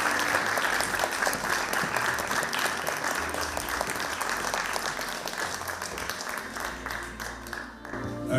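Loud, sustained applause from a crowd at a municipal anniversary celebration honouring a long-serving school worker, dense clapping throughout that thins slightly near the end.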